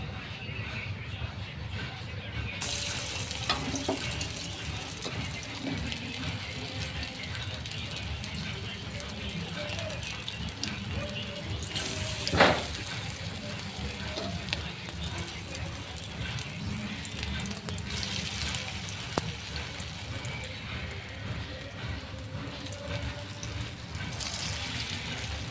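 Vegetable chops fry in hot oil in a wok with a steady, dense sizzle that runs throughout, dotted with occasional crackles and pops.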